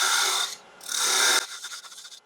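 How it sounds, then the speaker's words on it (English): A parting tool cuts into a scrap log spinning on a wood lathe at about 2000 RPM, giving two loud, close, hissing scrapes, then a rougher intermittent chatter as the cut eases off. "We got my parting tool just to define my cut-off point."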